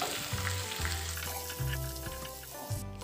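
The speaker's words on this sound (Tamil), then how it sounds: "இதை நல்லா எண்ணெயிலே வதக்கி விட்டுடலாம்" Chopped onions sauté in oil for a brinjal and chickpea tamarind curry, a soft continuous sizzle close by, with a low rhythmic hum and tonal background sound running beneath it, no voices.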